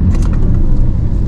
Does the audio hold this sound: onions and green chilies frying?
no